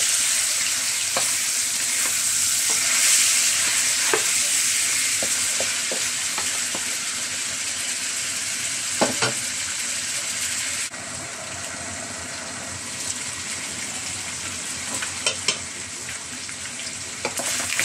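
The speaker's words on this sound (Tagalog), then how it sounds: "Igisa-gisa natin guys." Pork humba, Bisayan style, sautés in a hot pan with a loud, steady sizzle and occasional clacks and scrapes of stirring, up close with no talk.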